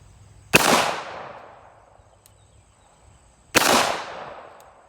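A Kimber Eclipse Target II pistol fires two sharp, loud shots about three seconds apart at swinging steel targets outdoors, each crack followed by a long decaying echo.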